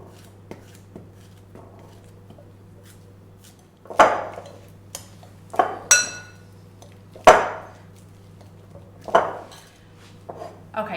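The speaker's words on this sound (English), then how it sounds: "I've got 2 bananas and I'm going to chop these into my bowl" Bananas chopped with a knife into a bowl for vegan raspberry oat muffins: a series of sharp, close clinks and knocks against the bowl, spaced irregularly after a quiet start, with a steady low hum underneath.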